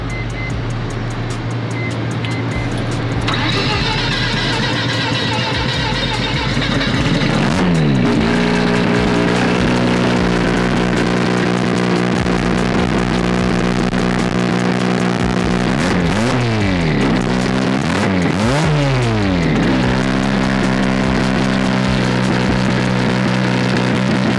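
A Mazda RX7 rotary engine runs at idle while its fuel is tuned, a loud, continuous and slightly uneven drone close by, with its pitch rising and dipping several times as the revs shift, and no voices.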